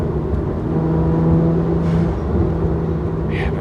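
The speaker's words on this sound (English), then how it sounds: "Yeah, the car sounds good." A modified BMW 1M drives with its engine droning steadily, a deep, continuous mechanical hum heard from inside the car without any talk.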